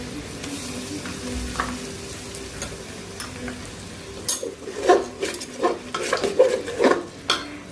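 Ginger, garlic and spices sauté in a pan with a soft background sizzle, then a run of close, rhythmic stirring clinks and scrapes of a utensil against the pan grows louder toward the end.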